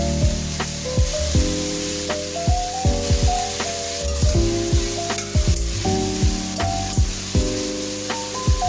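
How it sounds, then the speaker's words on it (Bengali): Sliced capsicum and yellow bell pepper sizzle steadily in a pan while a utensil stirs and scrapes them in repeated strokes, close and fairly loud, with no voices. "আগে থেকে ধুয়ে রাখা ক্যাপসিকাম, ইয়েলো বেল পেপার দিয়ে দেবো, দিয়ে একটু নেড়ে নেবো।"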